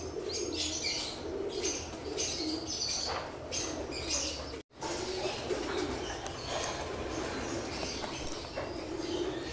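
Young pigeons just fitted with leg bands coo and chirp close by at a loft and aviary, with occasional bursts of wing flapping and a brief dropout midway.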